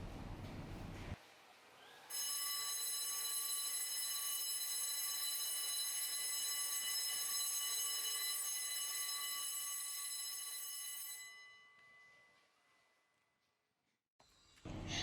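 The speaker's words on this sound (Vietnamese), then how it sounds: "vừa rồi chúng ta đã nghe thấy một tiếng chuông báo hiệu giờ tan trường vang lên" A loud electric bell rings continuously for about nine seconds, then fades out, with quiet room ambience before and after.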